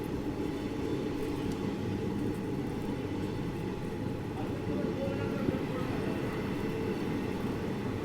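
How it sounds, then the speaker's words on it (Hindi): A train pulls into Dholpur Junction railway station with a steady low rumble and rolling noise, heard from on board at a moderate, even level. "अपनी ट्रेन का अराइवल हो रहा है धौलपुर जंक्शन रेलवे स्टेशन में"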